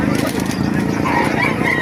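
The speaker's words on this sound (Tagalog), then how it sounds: "napakarami manok ngayon dito sa Bukawi, Bulacan" Chickens at a crowded poultry market in Bocaue, Bulacan squawk and cackle loudly and continuously, close by, with market bustle and murmured voices underneath.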